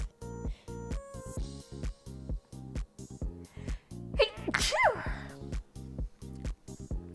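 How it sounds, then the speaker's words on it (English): One short, sharp sneeze bursts out in the middle, close and loud, over a steady looping electronic music beat. "I'm gonna sneeze."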